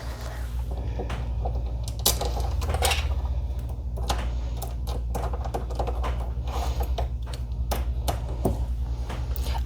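A screw fitted with a magnetic bumper is tightened into a Prusa XL enclosure, producing a steady run of small clicking, ratcheting taps over a low background hum.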